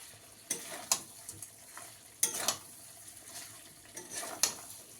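Food stir-fried in butter with a little oil: several quiet, sharp spatula scrapes against the pan come in irregular bursts over a soft background sizzle.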